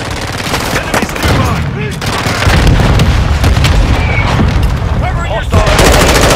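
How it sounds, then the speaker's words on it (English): Mortar strike explosions in Modern Warfare 2 multiplayer, loud repeated blasts and booms mixed with bursts of gunfire, dense and continuous from start to finish, with game announcer voice lines heard at points. "Hostile mortar strike near your position."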